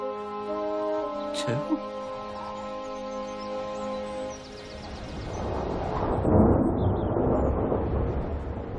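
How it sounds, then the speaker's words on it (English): Broad, rushing noise swells and gusts like stormy wind, growing louder in the second half, with a sustained tonal hum and a brief chirp early on. "Just listen to that wind."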